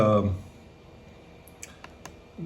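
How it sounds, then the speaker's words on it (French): The microphone mute button on an Amazon Echo Show 5 pressed, a few small, sharp clicks close by and fairly faint, coming just after a voice stops speaking. "Supposons que j'appuie sur le bouton pour couper"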